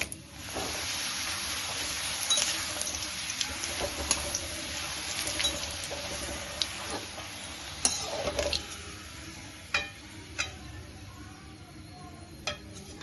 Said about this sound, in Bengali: এবার কড়াইতে কিছুটা তেল গরম করে আমি পাঁপড়গুলো সব ভেজে তুলে নেব।